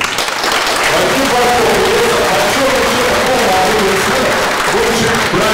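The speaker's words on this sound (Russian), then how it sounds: "давайте громкими аплодисментами" Loud, sustained applause from an audience at an award ceremony for a young entrepreneur, dense clapping running without a break and staying steady throughout.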